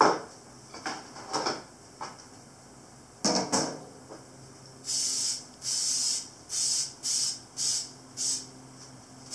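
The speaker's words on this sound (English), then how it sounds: "Just spray it all down. Spray everything, spray the top." Several short, sharp sprays from a pump bottle hiss out in quick succession, each a brief burst, after some quiet handling noises.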